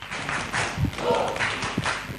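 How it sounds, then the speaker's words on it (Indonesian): A presentation audience joins in a spirited, rhythmic group clap, with mixed voices and shouts mingled among the hand claps throughout. "Tepuk semangat"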